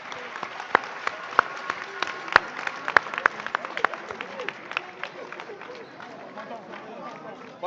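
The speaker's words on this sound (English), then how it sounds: "A resounding round of applause to celebrate." A crowd at a jubilee celebration claps steadily, with sharp individual claps standing out over the applause. Voices talk and call out underneath, and the clapping thins toward the end.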